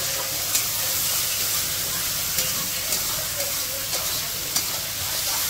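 Curry leaves sizzling hard in a hot frying pan, a steady dense crackle and hiss with a few sharper pops, close and loud throughout, no voice.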